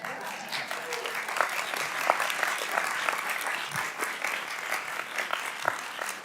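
Sustained audience applause fills a hearing room for the full stretch, dense steady clapping with a few sharper claps standing out, no voice rising above it.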